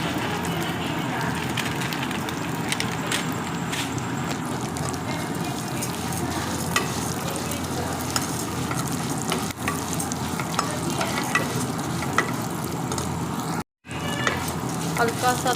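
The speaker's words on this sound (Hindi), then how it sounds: "हल्का सा रोस्ट करेंगे इसे" Custard vermicelli being lightly roasted and stirred in a pan, a steady dry sizzle with scraping stirs running throughout, briefly cut by a short gap near the end.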